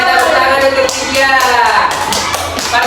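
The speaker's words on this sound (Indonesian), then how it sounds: "tepuk tangan untuk dia" Classmates clap for a student in a classroom, a short burst of close, loud claps mixed with voices talking over it.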